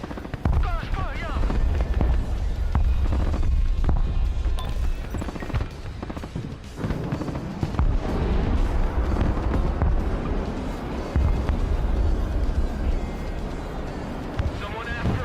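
In the video game Broken Arrow, artillery fires and shells explode in a dense, continuous barrage of heavy booms and crackling blasts. The loud mix runs without pause, with a voice talking now and then underneath.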